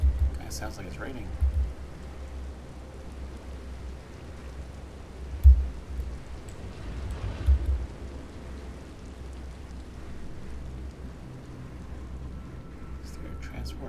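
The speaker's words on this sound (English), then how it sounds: "Sounds like it's raining." Rain falls in the video game Star Wars The Old Republic as a soft, steady wash, broken by a few deep low thuds like distant thunder.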